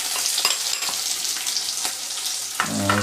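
Finely chopped ginger and onion sizzle steadily in a hot pan while cooking chilli paneer, with a continuous loud frying hiss, occasional stirring scrapes and a brief clatter near the end.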